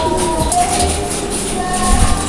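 A fancy pigeon, young offspring of a lap-champion racing bird, coos softly and repeatedly, close by over steady ambient noise with faint chirps in the background.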